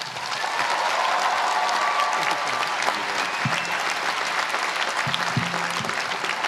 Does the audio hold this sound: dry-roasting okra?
no